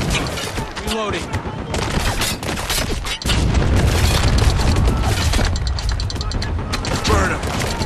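Dense gunfire and heavy explosions from a Spec Ops: The Line battle, loud and continuous with booming low impacts and rattling shots, while voices shout over the combat.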